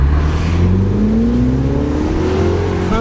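A sports car engine revs hard at full throttle, its pitch climbing steadily as it accelerates, loud and close throughout.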